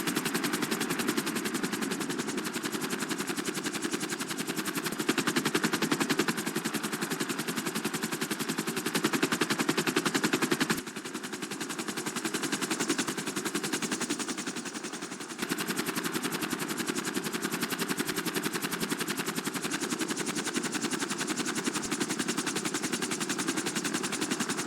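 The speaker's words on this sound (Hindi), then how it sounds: "हेलीकॉप्टर लेके आया है।" A helicopter arrives in the GTA 5 video game, its rotor and engine making a loud, steady, dense roar that runs on without pause, dipping briefly partway through.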